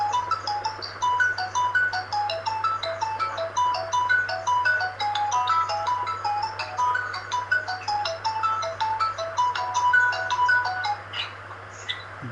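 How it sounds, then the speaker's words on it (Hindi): A mobile phone ringtone plays a repeating electronic melody of short bright notes, ringing continuously at moderate volume over a low steady hum, with no talking. "भाई जी मोबाइल की आवाज बंद कर लीजिए।"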